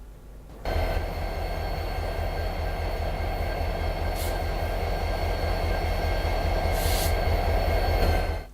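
A diesel locomotive runs in the cab in Train Simulator 2016: a steady, loud engine drone with a low rumble starts abruptly and carries on, with a couple of brief hissing bursts and no voices.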